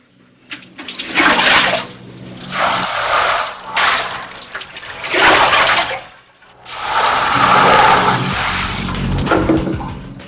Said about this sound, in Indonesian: aku pun memindahkan bahan ke saringan supaya airnya terbuang.